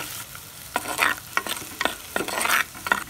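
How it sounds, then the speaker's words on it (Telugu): Chili powder sizzling in hot oil in a pan while being stirred, with repeated scraping strokes in an uneven rhythm over a steady close fry, no talk. "కారం అయితే వేగిపోయిందండి"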